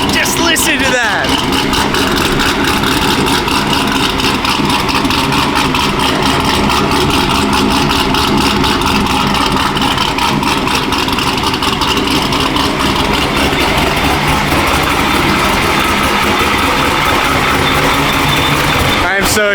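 A Corvette Z06 max-effort build idles loud and close, a steady heavy rumble with a fast, lumpy pulse that holds unbroken throughout without talk.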